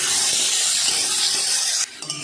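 Bitter gourd pieces fry in hot oil, giving a steady, loud broadband sizzle throughout, with faint stirring clatter, before the sizzle drops off sharply near the end.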